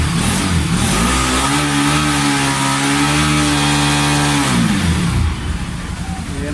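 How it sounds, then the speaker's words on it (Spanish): A Pulsar 200 NS motorcycle engine revs up and holds a high, steady buzzing pitch for several seconds, then drops back toward idle, heard close up during a charging system check. "Encendemos la moto."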